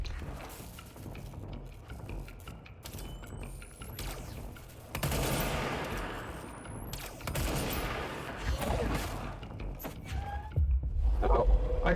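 Heavy gunfire from the Pierce weapon in the video game Control, a dense run of repeated shots and impacts over a noisy game mix that swells louder toward the end, with no talking.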